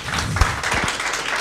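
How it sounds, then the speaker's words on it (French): An audience at a French television broadcast about blogs breaks into brief, dense applause, a close wash of clapping lasting just over a second. "d'applaudir chaleureusement"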